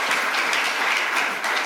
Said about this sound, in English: Maybe it's time for a little applause in the middle